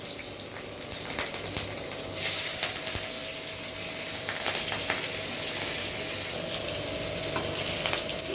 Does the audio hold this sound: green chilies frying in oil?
yes